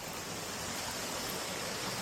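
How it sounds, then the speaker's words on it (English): A rushing waterfall at Mae Kampong, Chiang Mai, heard as a steady, dense roar of falling water, close and loud, with no voices or other sounds. "You never grow tired of the sound of rushing water."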